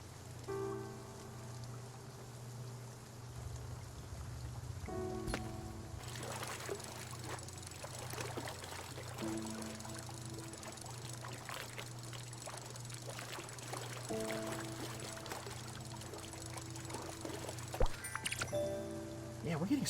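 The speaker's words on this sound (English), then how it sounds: "maybe it's just because it's raining" Steady rain patters throughout a scene in the Spiritfarer video game, a constant wash of falling water mixed with soft game music, with a voice talking over it at times.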